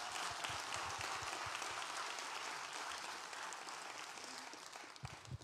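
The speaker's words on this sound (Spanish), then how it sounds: "let's give him a great big hand" Faint, distant applause from an audience at a Santa Ana church healing service, a steady wash of clapping that holds evenly throughout.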